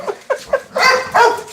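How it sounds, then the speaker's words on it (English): Loud, close dog barks: three short sharp yips in quick succession followed by two longer, drawn-out howling barks. "I ain't mean for you to do all that damn barking."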